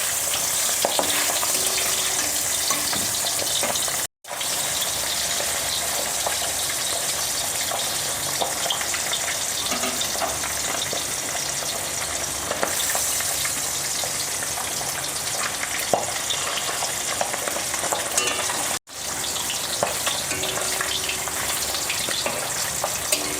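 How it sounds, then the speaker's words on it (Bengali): Fish fries in hot oil in a pan while it is turned over, giving a steady, loud, close sizzle that runs throughout with two brief dropouts; no one speaks. "উল্টে পাল্টে ভেজে নিলেই হবে।"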